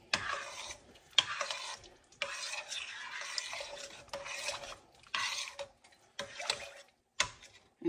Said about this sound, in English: But we should stir it.